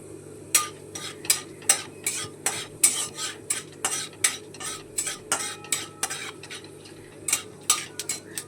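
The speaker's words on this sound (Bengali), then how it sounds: "এবারে আমরা এটা একটু ভাজা হতে দেব।" Cumin, black mustard seeds and chana dal fry in hot oil as a spoon scrapes and stirs the pan in a steady rhythm of sharp clicks, with a quiet sizzle underneath and no talk.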